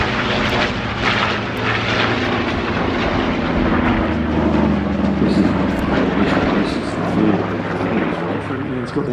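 A Curtiss propeller airplane roars past at the Flying Legends airshow, its engine drone loud and steady throughout, with a commentator's voice talking over the noise.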